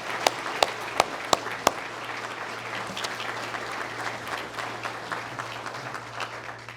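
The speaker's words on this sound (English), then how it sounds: "Let's give our great governor a big round of applause." A crowd at a South Carolina law enforcement awards ceremony gives the governor a sustained round of applause, opening with a few sharp, loud individual claps before settling into a dense, even wash with a low steady hum underneath.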